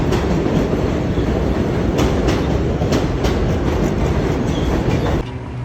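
Train rolling into a station, a loud continuous rumble of wheels on rail with clickety-clack beats, steady throughout before easing slightly at the end; no talking.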